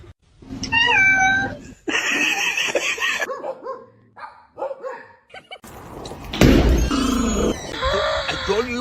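A small kitten meows and yowls in loud repeated cries, mixed with a dog's barks and yips, while people talk and call out around the animals.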